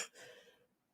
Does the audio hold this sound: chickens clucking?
no